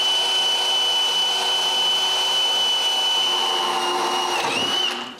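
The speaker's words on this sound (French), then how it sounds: "Je peux maintenant percer les trous pour pouvoir fixer la sableuse à la table." A drill bores holes into a wooden table where a woodworking edge sander will be mounted, giving a steady, loud motor whine that holds for about five seconds before winding down at the end.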